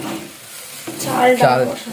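Rice sautéed for khichuri sizzles in a pan while a spoon stirs it, scraping in short bursts over the steady frying hiss, close by.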